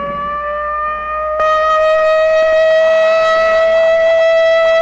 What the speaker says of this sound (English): this siren may mean the real thing